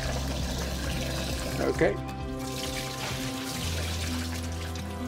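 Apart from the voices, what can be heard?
cold water running from sink tap, rinsing homemade butter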